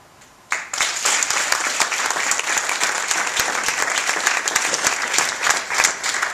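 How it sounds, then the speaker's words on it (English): A crowd breaks into steady, loud applause after a short quiet moment, clapping continuing without pause to the end. "give a round of applause and appreciation for these fine candidates"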